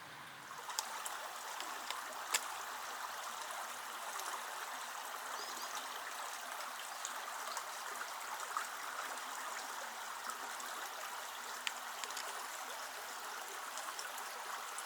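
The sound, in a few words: Brid River stream flowing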